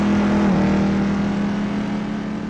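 A 1997 Panoz GTR-1 race car in Assetto Corsa hums along at low revs in a high gear, a steady, loud, droning engine note that dips slightly early on and then holds evenly, with no talking.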